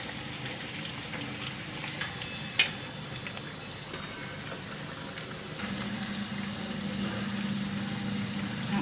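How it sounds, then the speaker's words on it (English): Marinated potatoes for tandoori aloo fry quietly in a pan, giving a soft, steady bubbling sizzle with one sharp clink partway through and a low hum coming in toward the end. "My marination is done and now we'll fry our potatoes"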